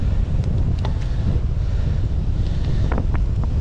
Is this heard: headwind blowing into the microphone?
yes